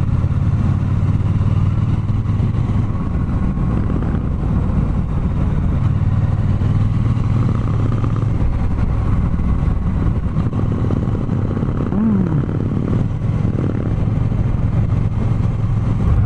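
A Harley-Davidson motorcycle cruising along a tree-lined country road, its deep engine rumbling steadily and loudly, with some wind and mechanical clatter and no speech.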